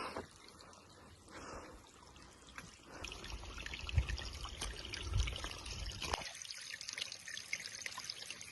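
Spring water trickles and pours into a storage tank on a Kerala hillside, a steady liquid splashing that swells louder midway with brief surges, no talking.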